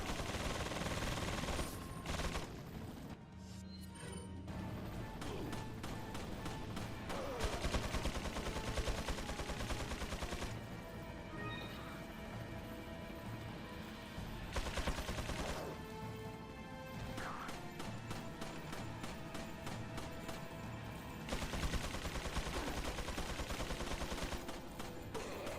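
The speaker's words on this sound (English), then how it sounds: "Can I get on this turret and maybe shoot these down?" Turret gunfire in the Resident Evil 4 video game, a long stretch of dense, rapid shots mixed with crashes and game effects, steady and loud throughout with brief pauses between bursts.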